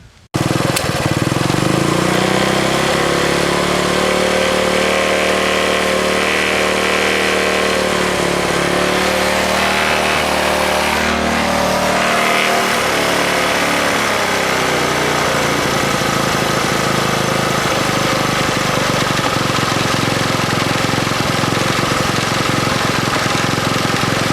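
A 1964 Honda S90 motorcycle engine, running poorly after sitting in storage and fuel leak repairs, idles loudly and close for the whole stretch, its pitch wavering and dipping unevenly midway before settling, with no talk.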